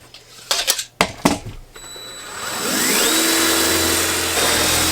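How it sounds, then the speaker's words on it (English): A power drill boring a hole through the wall of a homemade square teardrop camper, a few short bumps and clicks followed by a loud, steady whine that keeps going to the end. "here I'm just drilling a hole and fishing the wires out for the USB charging port I'm going to put here."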